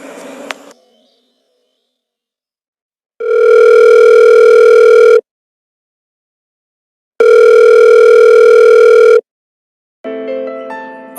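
An unanswered phone rings in a steady repeating pattern, with long loud electronic tones separated by silent gaps. The sound is clean and close, with no voices.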